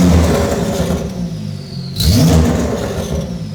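A Porsche Turbo S engine revs hard and close, a loud sustained roar with a rising whine that dips briefly, then surges again in a second strong rev.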